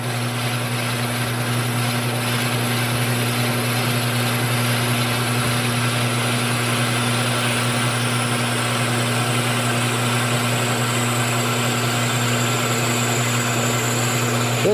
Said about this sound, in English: So the lathe has to be at a slow speed for this, of course.